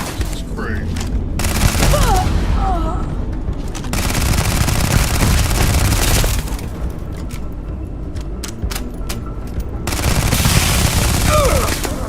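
Bursts of rapid gunfire in the space game Starfield on Xbox Series X, loud dense volleys in several long stretches separated by brief lulls, with a voice talking in between and over the shooting.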